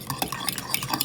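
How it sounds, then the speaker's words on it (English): Ingredients are mixed in a bowl with quick, repeated clinking and scraping strokes of a utensil, close and steady over a brief stretch. "So I'm just going to mix this all up"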